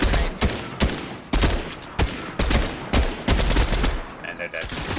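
Repeated bursts of gunfire from a Fortnite match, sharp loud volleys arriving in quick rhythmic clusters about every second, with brief gaps and a faint tonal game chime near the end.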